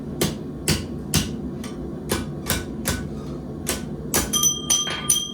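A hammer strikes hot metal at a forge while a round hole is punched through the workpiece: about a dozen sharp, ringing blows in a loose steady rhythm, close and loud, quickening into lighter taps at the end.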